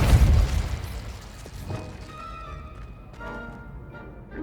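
The Depulso repelling spell goes off in Hogwarts Legacy, opening with a heavy, low boom that fades into a quieter rumble, followed by soft thuds and faint ringing chimes.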